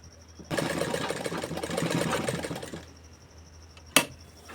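Sewing machine stitching a collar neckline, a close rapid mechanical run of about two seconds that stops abruptly, followed by a single sharp click.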